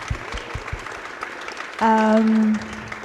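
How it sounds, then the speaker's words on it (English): An audience claps at a live book event at Book Circle Capital. A steady wash of applause runs throughout, with a brief, louder sustained tonal cheer or whoop rising above it midway. "Ladies and gentlemen, a final round of applause for Tepi."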